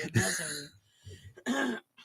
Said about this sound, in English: thanks for coughing at me